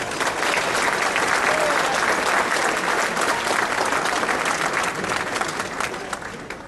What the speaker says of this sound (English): So please give a round of applause to those individuals.